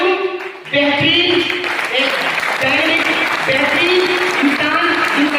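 A seminar audience bursts into loud, sustained applause that fills the whole stretch, with a voice speaking over the clapping throughout.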